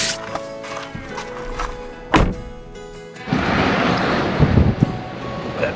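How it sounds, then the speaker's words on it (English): Strong gusty wind buffets the microphone in open desert country among rocky hills, with a sharp thump partway through followed by a steady loud roar of wind noise. "It's so windy."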